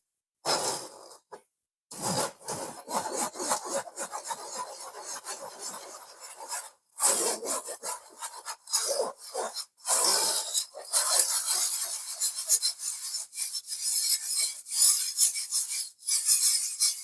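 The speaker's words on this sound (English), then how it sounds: "using a whisk, and make sure you give this a good sieve" Dry cake ingredients for a chocolate cake being sieved by working a whisk against a mesh sieve, giving a steady close scratchy rasping and rubbing, broken by a few short pauses, with no talk.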